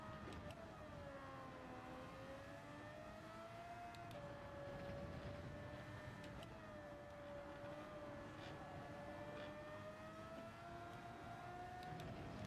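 An older Formula 1 car engine in a racing video game drones steadily with a wavering high whine rising and falling, continuous and fairly quiet throughout.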